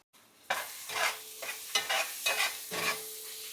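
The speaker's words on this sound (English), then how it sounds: "the goal here is to melt the coconut down and allow it to curdle to an extent." A coconut cream bar melts in a hot pan with fish seasoning, sizzling steadily while being stirred in several close, scraping strokes, with no talking.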